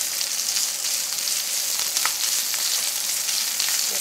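Food sizzles in a pan in a home kitchen, a steady crackling hiss with small pops, constant and close with no talking.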